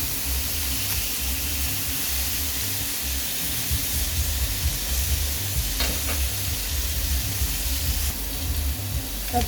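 Beef pieces with onion and tomato sizzle steadily in a hot pan as they roast, a continuous close frying hiss with occasional stirring scrapes and no talking.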